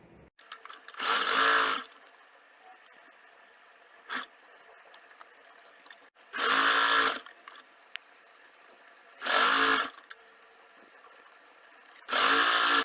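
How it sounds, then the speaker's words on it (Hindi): Sewing machine stitching along the side of a cloth bag, heard as four short loud bursts of fast running, each a second or so long, separated by quiet pauses with faint handling. "और साइड से सिलाई करना शुरू करेंगे"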